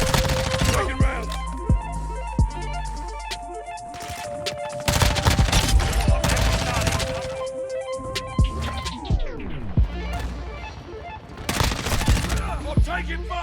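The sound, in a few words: gunfire in Call of Duty Modern Warfare, MP5 video game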